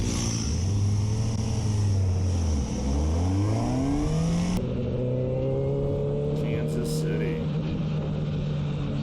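A motorcycle engine revs up and down, its pitch sweeping and then holding high in a long, loud, steady drone while a voice talks over it.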